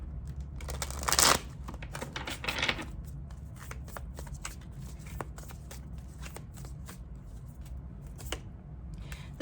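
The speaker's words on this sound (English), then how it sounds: "Let me get one good shuffle on these." A deck of tarot cards being shuffled by hand, giving a quick riffle and a couple of soft flutters, then lighter scattered taps and card slides at close range, fairly quiet with no speech.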